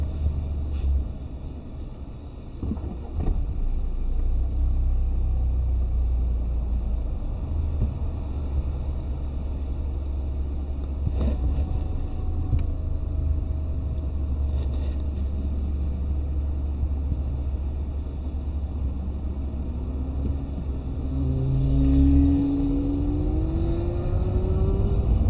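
Inside a new Jaguar XE on the move, a continuous low engine and road rumble holds steady, swelling slightly near the end, with no talking.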